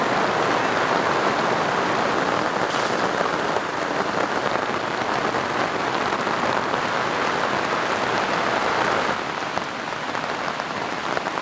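Steady rain patters on an awning at a riverbed campsite in the mountains, a dense, even hiss that holds close and loud throughout with no voices.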